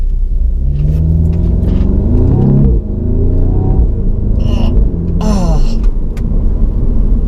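An Audi S3 engine rumbles and revs continuously while shifting up through gears, with rising and falling engine pitch and brief sharp bursts during the shifts, loud and close throughout.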